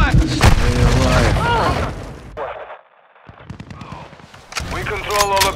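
Loud, close gunfire and explosive booms from a Call of Duty Modern Warfare 2 Domination match, bursts of automatic fire mixed with blasts, a short lull, then renewed shooting, with radio-style voice callouts in between.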